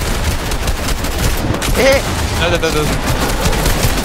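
Rapid bursts of gunfire in a trio battle royale endgame, dense and loud over a steady backdrop of shots, while players talk over the action.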